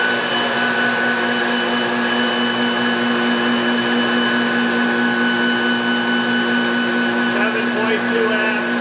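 An electric motor on an EV regenerative acceleration test rig spins steadily at about 3,700 RPM, giving a loud, constant whine with strong tonal hum and no break across the whole stretch; a voice may be faintly present underneath.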